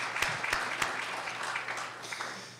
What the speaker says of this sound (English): So I'd like to just actually applaud Bob again